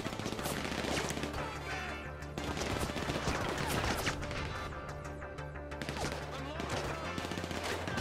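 Rooftop gunfight in Grand Theft Auto V: dense, loud bursts of automatic and single gunfire from several shooters, nearly continuous with short gaps.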